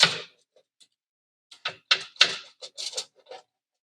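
Knife chopping food into eighths on a cutting board: a short run of crisp, close knocks and chops in quick uneven succession after a brief pause, with no talking.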